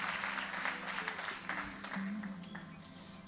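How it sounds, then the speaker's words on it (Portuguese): A church congregation claps steadily through a dense, continuous round of applause, heard at moderate distance with a voice speaking faintly over it. "Nós Te aplaudimos em nome de Jesus."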